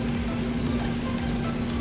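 Medan anchovies sizzling in a hot pan for spicy fried rice, a steady, close hiss of frying oil with no pauses and no voices.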